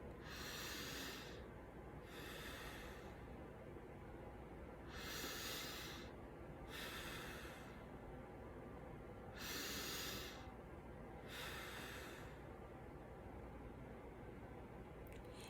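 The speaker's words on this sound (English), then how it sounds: "let's take 3 nice, deep breaths" Slow, deep breathing close to the mic, about three long breath cycles with drawn-out airy inhales and exhales separated by quiet pauses.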